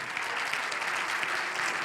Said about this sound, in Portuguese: Se é para o Senhor, aplauda com mais força.